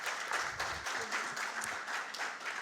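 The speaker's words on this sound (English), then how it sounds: "please welcome with a huge round of applause District Director, Distinguished Toastmaster Ankit Das Gupta" Applause from a conference audience at a college-to-corporate HR summit, a dense, even wash of many hands clapping, moderately loud and steady throughout, with no voices on top.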